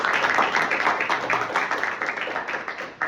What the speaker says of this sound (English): Clap it out for me real quick.